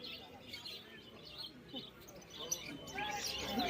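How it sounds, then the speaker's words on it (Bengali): Birds call in cages at a crowded pigeon market in Birnagar that sells Giribaj, Madras, green and local pigeons. Faint chirps and coos sit under steady crowd noise and nearby talk. "দেখি এই খাঁচায় কি কি পায়রা আছে"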